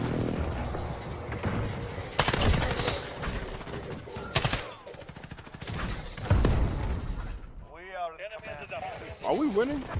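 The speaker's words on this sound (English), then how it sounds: "I'm trying to see if I can get these goddamn kills with this fucking sniper rifle." Sniper rifle shots in Modern Warfare multiplayer on the Shipment map: a few sharp, loud cracks spaced a couple of seconds apart amid busy game noise, with someone talking over the later part.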